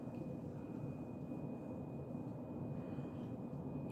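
A 50-inch Emerson Petal ceiling fan (2023 remake) runs on its high setting, giving a faint, steady whooshing hum with a thin constant tone above it, unchanging from start to finish and without any talk.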